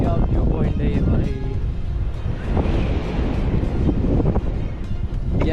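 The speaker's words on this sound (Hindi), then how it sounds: "ठंडी ठंडी हवा चल रही है" A cool wind blows at a hilltop viewpoint in Vizag, buffeting the microphone as a steady, loud roar while someone talks over it.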